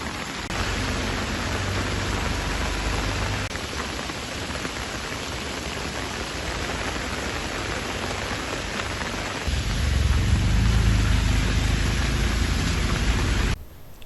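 Steady, heavy monsoon rain pours continuously over Khed in Konkan, a dense broadband hiss with a low rumble that grows stronger near the end.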